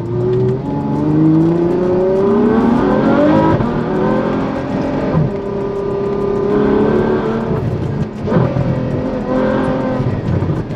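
Ferrari F12 Stallone Mansory accelerating hard, its loud high-revving V12 climbing through gears in repeated rising sweeps with brief dips at shifts, continuous and close throughout.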